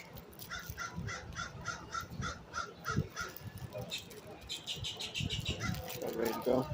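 Crows cawing while being fed at a crab shack on Tybee Island, Georgia, with repeated rhythmic caws and wing flaps close by, while people talk nearby.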